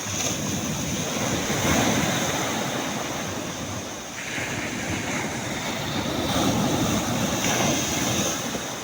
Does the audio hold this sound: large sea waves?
yes